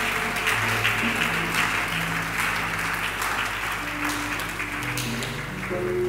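A congregation at a Sunday church service applauds steadily, a sustained wash of clapping at even loudness with organ or keyboard notes sounding underneath.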